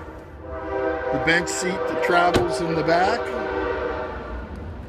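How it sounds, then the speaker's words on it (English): A passing train sounds a loud, sustained horn in two long blasts with a wavering tone over a steady rail rumble, close by, while someone speaks over it beside a 2017 Chevrolet Equinox at a car dealership. "I apologize for the train."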